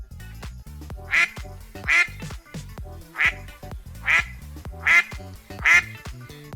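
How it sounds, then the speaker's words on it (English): Ducks quack in six loud, nasal bursts spaced about a second apart, close by and clear, with no other sounds in between. "Ducks."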